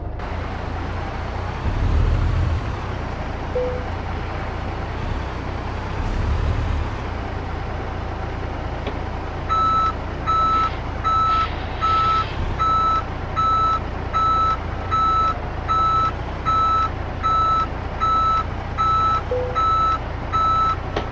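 A truck in Euro Truck Simulator 2 reverses into a parking spot, its engine rumbling low before a steady, evenly spaced run of loud reversing beeps starts and keeps repeating to the end.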